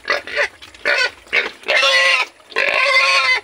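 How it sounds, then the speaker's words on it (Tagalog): A male breeding boar on a farm grunts and squeals loudly and close by in repeated bursts, the later calls longer and more drawn out. "Lalaking baboy."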